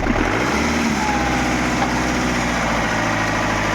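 Iveco truck engine running with a steady low rumble close by, revving slightly throughout with no clear breaks; faint speech is barely present.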